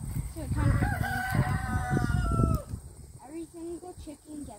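A rooster crows loudly nearby, followed by a few softer clucks from chickens.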